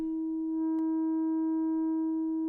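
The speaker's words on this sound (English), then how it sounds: "you get that original sine wave" Plain sine tone from a Joranalogue Fold 6 wavefolder module with the fold turned low, a steady pure hum that fades in and then holds alone with a faint click partway through.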